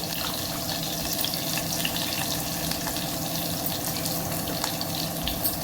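Dried red chillies frying in oil after mustard seeds have popped, making a continuous busy sizzle with faint crackles for a Telugu chinthakaya pappu, close and steady, with no speech.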